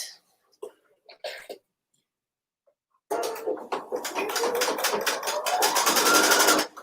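A sewing machine stitches the long seam of a fabric strap with right sides together, running as a steady rapid mechanical chatter that starts after a few short coughs and quiet moments and builds slightly in pace.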